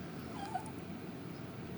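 Old, blind and deaf dog fussing with a faint, thin whimper near the middle of a short stretch, under a steady low background hum.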